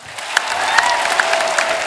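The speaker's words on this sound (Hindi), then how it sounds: "जोरदार तालियां एक बार हो जाए।" Studio audience applause on a Hindi comedy talk show, a steady, loud burst of clapping from a crowd lasting a couple of seconds.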